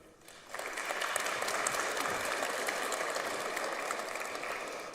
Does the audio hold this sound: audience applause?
yes